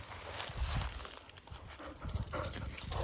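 A yellow dog outdoors in the backwoods panting nearby, quick rhythmic breaths in a soft, fairly faint burst lasting a few seconds.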